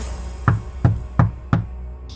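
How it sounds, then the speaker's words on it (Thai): Four evenly spaced knocks on wood, close and fairly loud, each a short hollow thud with a clear pause between, while a low background hum continues throughout. "เคาะไม้ด้วยได้ไหมเนี่ย"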